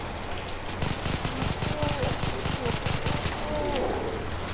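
Gunfire in the video game Far Cry 3: a long burst of rapid automatic shots, loud and close in a tight rhythm, with a player talking over the shooting.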